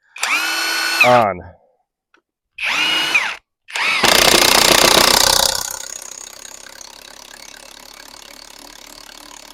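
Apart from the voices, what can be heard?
Hercules 20V cordless impact wrench drilling a hole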